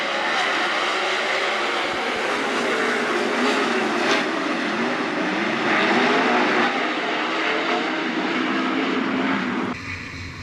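A pack of 410 sprint cars roars off at the start of a heat race at Attica Raceway Park, their engines blaring in a loud, sustained, dense drone that holds steady before briefly dipping near the end.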